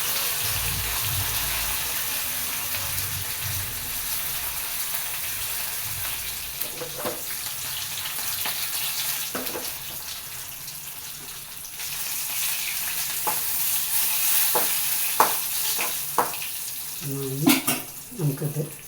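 Curry leaves and dried red chillies frying in oil for a Kerala-style curd curry with taro: a steady, bright hiss that runs throughout, with scattered clicks and knocks that cluster near the end.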